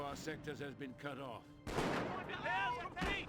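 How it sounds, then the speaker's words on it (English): Gunfire volley hitting Pioneers in Company of Heroes, a sudden loud burst of shots and battle noise after a stretch of talk, with a voice speaking over the firing. "Ooh, Pioneers do take a bit of a volley there."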